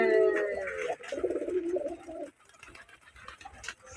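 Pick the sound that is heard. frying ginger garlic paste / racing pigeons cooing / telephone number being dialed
racing pigeons cooing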